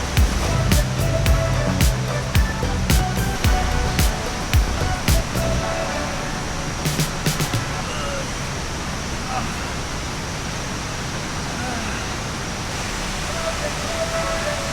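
Rushing water from a waterfall beside a riverside campsite pours as a steady broadband roar, with sharp knocking sounds and some low noises in the first several seconds before the water continues alone.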